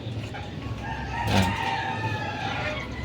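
Chickens with newly hatched chicks cluck and cheep steadily close by, with one louder rooster-like call rising in the middle of a short, busy stretch of barnyard noise.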